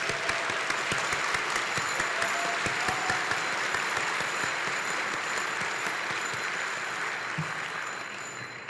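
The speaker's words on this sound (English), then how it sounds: "Please join me in giving them a round of applause." Applause at the NACTO Designing Cities Conference 2022 keynote, with many hands clapping in a steady, close wash of sound that gently fades toward the end.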